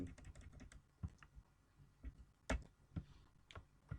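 Quiet, steady tapping on a computer keyboard, with irregular bursts of keystrokes and a few heavier key presses, close by with no voices.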